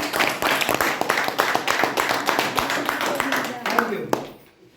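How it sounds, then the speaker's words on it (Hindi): Audience clapping at a Hindi-language business presentation, a dense run of sharp claps over several seconds under crowd chatter, fading out near the end. "एक बार जोरदार तालियां।"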